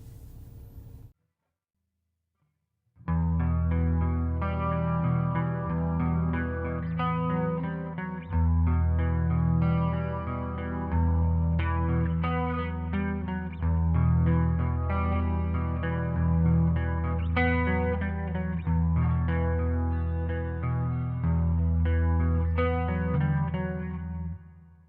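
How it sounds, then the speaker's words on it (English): A clean electric guitar, a 1985 Gibson Explorer on its Sentient neck pickup, plays steady chords with a shimmering, chorus-like effect and light echo, starting after a brief silence. "let's hear the clean tones from the Sentient neck pickup"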